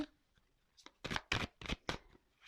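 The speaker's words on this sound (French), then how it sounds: "je vais prendre une petite carte conseil" Oracle cards being shuffled before drawing an advice card, heard as a quick run of close, crisp riffling bursts after a brief quiet start.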